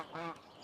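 A single short cartoon duck quack, a brief nasal honking call, fairly close and clear, with no talk over it.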